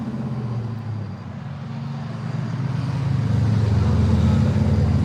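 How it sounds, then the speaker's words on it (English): Road traffic passes by in a steady low rumble that swells gradually louder toward the end, heard from nearby without anyone speaking. "a lot of traffic."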